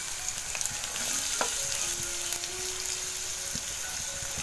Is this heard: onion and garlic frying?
yes